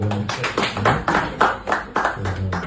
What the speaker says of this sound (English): And clap, then- clap, clap.